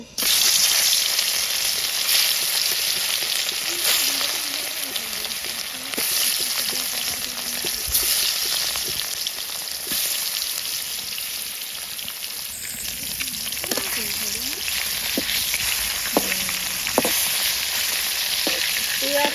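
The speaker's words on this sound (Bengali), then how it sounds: "তেল তো তাপে গেছে গা মাছ দিয়ে দিই" Fish frying in hot oil gives a steady, loud sizzle throughout, with occasional stirring clatter and a few faint knocks toward the end.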